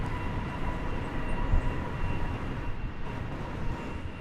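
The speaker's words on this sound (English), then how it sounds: "Arriving from Denver, an Airbus A321" An Airbus A321 airliner arriving at Dallas Fort Worth airport, a steady low broadband rumble of jet engine noise heard from a distance, continuous and unchanging throughout.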